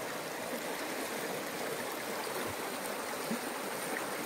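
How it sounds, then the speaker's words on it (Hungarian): Water flows and trickles steadily from an old spring, a continuous soft rushing close by with no voices. "folyik a víz belőle."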